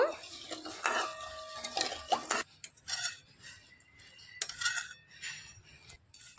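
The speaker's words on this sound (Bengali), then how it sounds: "এবার নাড়াচাড়া করে মালাইটা আমি রেডি করে নেব" A spoon scrapes and clinks in a pan as malai cooked with milk powder is stirred, with irregular bursts of metallic scraping separated by short pauses, close up and without talk.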